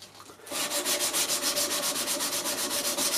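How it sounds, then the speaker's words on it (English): A knife blade is hand-sanded with fresh grit: after a brief pause, a steady run of quick, even back-and-forth rubbing strokes, close and fairly loud, with no talking. "just keep on hand rubbing until that goes"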